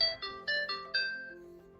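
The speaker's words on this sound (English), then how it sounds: "it plays a little sound for you and vibrates so you can find your watch" A KOSPET Tank M2 smartwatch plays its find-device alert: a short, bright electronic melody of about five quick tonal notes that fades out on the last one, heard clearly and alone.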